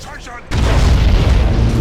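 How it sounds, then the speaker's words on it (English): An Imperial cruiser blowing apart in the space battle game Battlefleet Gothic Armada 2: after half a second of quiet, a sudden heavy, loud boom erupts and keeps roaring as a dense, sustained rumble. "the bridge section of that Imperial cruiser completely destroyed"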